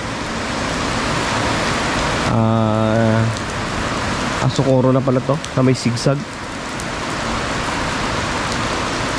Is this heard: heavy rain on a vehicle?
yes